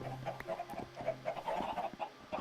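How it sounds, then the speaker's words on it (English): Chickens clucking in the video game Minecraft: a string of short, quiet clucks and murmurs at moderate distance, repeating irregularly over a faint background, with no talking. "Hey, these chickens have grown up."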